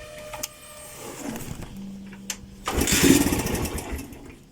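A Suzuki Mola 125 motorcycle engine starts and settles into a close, steady idle with a buzzing mechanical drone, with no voices over it.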